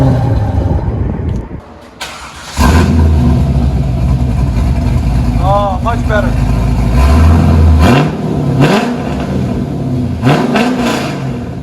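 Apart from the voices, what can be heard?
V8 car engine revving, heard inside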